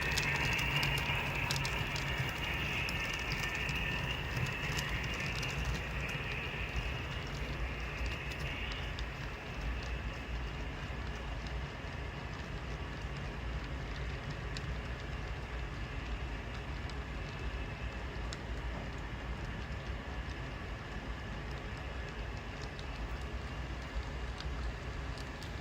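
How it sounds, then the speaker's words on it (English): A coal train on the Okanagan Valley Railway pulling away from Penticton Yard toward Myra Canyon, a steady low rumble and rolling hiss at a distance, with a faint high squeal early on, continuing unbroken for the whole stretch. "Our coal train has just left Penticton Yard and is now heading out on its way to Myra"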